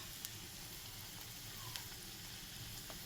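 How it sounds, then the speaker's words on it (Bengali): Sago papad frying in hot oil, with a steady close sizzle and fine crackling that runs without a break the whole time and no talk. "এরপর আমি গরম তেলে দিয়ে দিলাম।"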